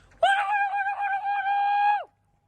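A single loud, sustained human shout outdoors near a forest in Bulgaria, a sharp start holding steady for nearly two seconds and then breaking off, with no other talk.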